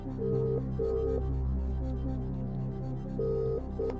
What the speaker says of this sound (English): Right, ringing him now.